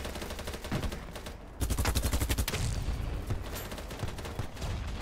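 M249 light machine gun in the Battlebit shooter game, firing long sustained automatic bursts with a short gap, loud rapid rattling shots close up and no talk.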